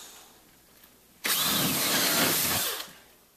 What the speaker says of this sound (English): you just simply drill a half-inch drill bit